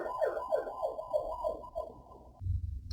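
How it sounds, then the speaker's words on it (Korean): A fire engine siren outside Yongsan fire station in Seoul wails, sweeping up and down repeatedly in quick cycles, fairly distant, then stops and gives way to low rumbling background noise. "이게 용산 소방서 바로 앞이라서 수시로 그냥 사이렌 소리가 들립니다"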